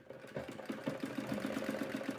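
A sewing machine stitching the fall onto a saree, a quiet, rapid, regular clatter of needle strokes, close by and heard alone with no talk.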